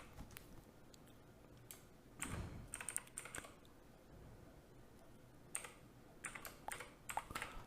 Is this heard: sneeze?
no